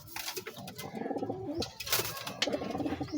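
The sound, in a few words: racing pigeon cooing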